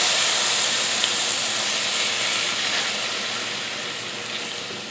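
Canned potatoes sizzle steadily in a hot pan, a broad, even hiss that holds alone without talk and eases slightly toward the end.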